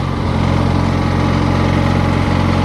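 A riding lawn mower from a scrap yard runs at max throttle, a loud, steady, buzzing engine drone held close for the whole stretch without talk.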